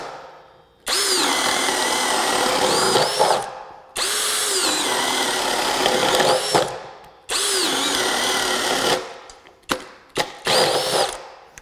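A compact power drill on its high setting boring a 3/4 inch hole, three long loud whirring runs with the motor pitch sagging under load, then short bursts as it stops at the end of the hole.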